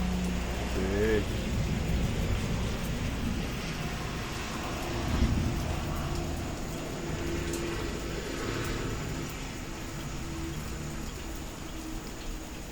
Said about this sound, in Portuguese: Já se foi mais um dia de chuva.